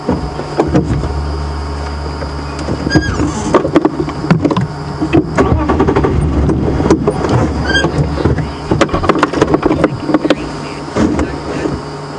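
A safari vehicle's engine runs steadily during an afternoon game drive at Djuma Game Reserve, a continuous low rumble with scattered clicks and rattles, near and fairly loud, with no talking.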